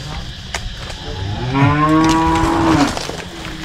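Cattle moo out in the open, one long, loud, drawn-out call rising in the middle and holding steady before trailing off, set against steady outdoor background noise.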